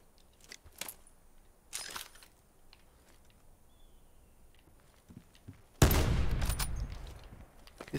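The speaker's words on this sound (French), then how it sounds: "C'est un snipe ça." A sniper rifle shot in the battle royale mode of Call of Duty Black Ops 4: one heavy, close blast near the end, then a decaying rumble. Fainter clicks and taps come earlier.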